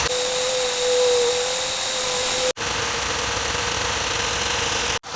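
A Ford Escape engine with a misfire runs at a steady idle, a close, continuous mechanical drone with a faint whine on top, briefly cut off twice.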